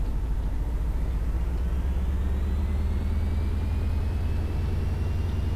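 Ford 6.0 Powerstroke truck engine with a stage 3 turbo in BeamNG Drive, giving a steady low diesel drone with a faint whine slowly rising in pitch, alone and continuous.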